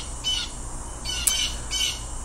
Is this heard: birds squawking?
yes